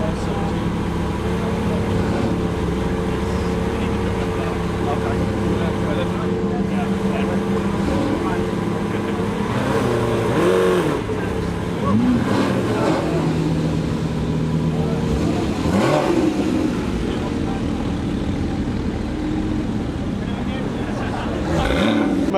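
Supercars, including a Lamborghini Aventador S, revving their engines as they convoy out from a gathering, with deep rumbling idles and several louder rev bursts amid crowd noise, while someone talks over the sound.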